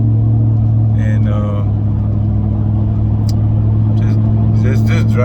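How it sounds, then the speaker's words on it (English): A 2004 Dodge Ram 2500 with a 5.7 Hemi drives on a test loop, its engine rumble and tire roar forming a constant, loud, droning wash from inside the cab, with faint voices over it. "I'm just doing a little test ride. Tires roaring."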